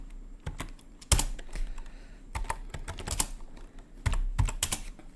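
Clattering keystrokes on a computer keyboard, close and irregular, in short bursts separated by brief pauses, with no voices.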